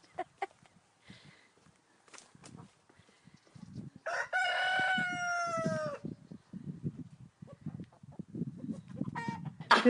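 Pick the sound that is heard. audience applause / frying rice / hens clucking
hens clucking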